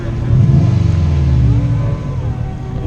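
Exhaust note of a Subaru Impreza STI at a Japanese car show, a loud, steady engine drone that swells and holds before easing off, close by with no talk over it.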